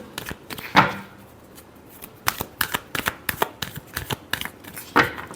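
Tarot cards shuffled by hand in a run of crisp riffling bursts and quick slaps, close and fairly loud, with short pauses between the bursts.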